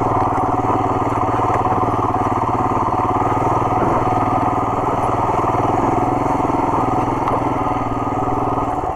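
A Royal Enfield Himalayan motorcycle engine runs steadily and loud throughout while riding off-road past apple orchards, a continuous throbbing drone with no pauses.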